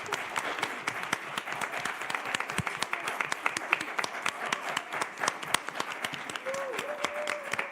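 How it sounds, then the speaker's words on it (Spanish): An audience at a youth leadership panel discussion gives the organizers a lively, sustained round of clapping, dense and busy throughout, with scattered individual claps poking through and faint voices beneath. "Me gustaría que le diéramos un gran aplauso a las personas que organizaron este evento"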